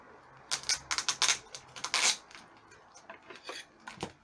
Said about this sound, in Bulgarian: Ще поставим пиксо отгоре долу.